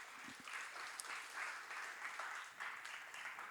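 Steady applause from a church high school group at a Sunday service, a dense wash of many hands clapping at moderate volume, continuing without pause.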